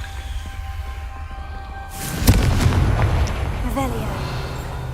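Confringo fire spell in Hogwarts Legacy bursting with a loud blast after a quiet low rumble, followed by a rolling crackling roar and brief whooshing spell effects that linger for a few seconds.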